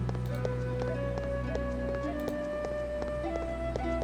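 A horse in the VTM Redemption video game clip-clops along, its hoof beats regular and fairly faint under steady game music and a constant low hum.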